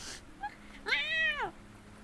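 A human voice imitates an angry cat, with a short, loud, drawn-out whining meow that rises and falls, standing alone in a quiet room after a faint brief sound.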